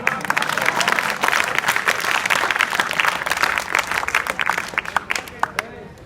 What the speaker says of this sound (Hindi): रामलाल के ताली बजाओ।